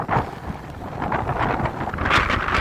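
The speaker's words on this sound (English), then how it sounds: "Not too windy at the moment. Definitely some gusts coming in though." Gusty wind buffets the microphone on Folly Beach by the pier ahead of Hurricane Dorian, a loud rumbling roar that swells and eases with the gusts.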